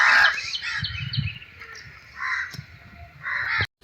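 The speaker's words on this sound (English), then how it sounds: "This is called a poultry house where hen are kept and raised." Hens in a small caged poultry house give repeated harsh squawks and clucks, several calls close by and separated by short pauses, with low rustling beneath and no talk.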